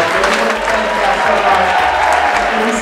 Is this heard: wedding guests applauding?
yes